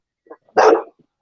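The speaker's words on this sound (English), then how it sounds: "The more I tell him to hush, the more he barks." A large dog, a big male, lets out one loud, full bark, with a couple of faint yips and whimpers just before it, close by and alone.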